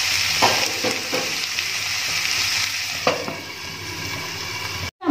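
Onions and tomatoes sizzling in oil under a lid in a pan for chicken biriyani, a steady muffled frying hiss with a few soft clicks and knocks, ending in a sharp clatter.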